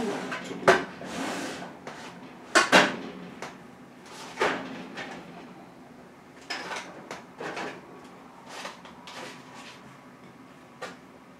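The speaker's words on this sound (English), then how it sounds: "Whenever I open a drawer, it's just the loudest thing in the world." Drawer in an art studio storage tray sliding and thudding open and shut, several sharp knocks and rattles spaced through the stretch, fairly close and loud in a quiet room.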